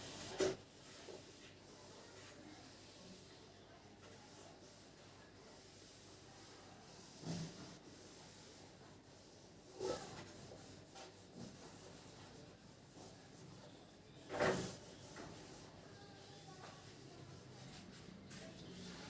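Writing is rubbed off a board in a handful of brief, soft scrubbing strokes spaced seconds apart, faint over a quiet room hiss.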